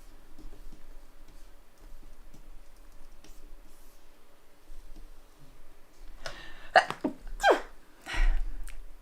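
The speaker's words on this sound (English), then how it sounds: "I have the most ridiculous sneeze." A single sudden, sharp human sneeze bursts out near the end, loud and close, following quiet stretches of faint keyboard and mouse clicking at a computer.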